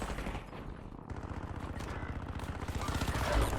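Rapid automatic gunfire in Warzone, a dense burst of fast, evenly spaced shots that swells slightly louder toward the end.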